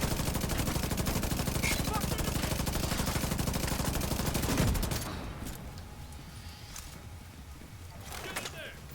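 Turret firing in The Division 2, a rapid, steady stream of loud automatic shots for several seconds that stops abruptly, leaving quieter ambient game noise with faint activity.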